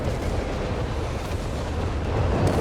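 Artillery barrage in Company of Heroes 3, a dense continuous rumble of heavy shelling and blasts filling the whole clip, loud and unbroken with no voices.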